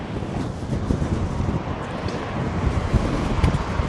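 Strong wind gusting across the Blackpool seafront on a rough, rainy morning, a steady, loud roar of rushing air that buffets the microphone throughout.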